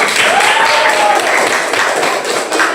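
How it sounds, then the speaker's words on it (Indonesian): Students in a classroom clap together after a group answers, a close, loud burst of dense, even applause that carries on steadily throughout with no talk over it. "Tepuk tangan."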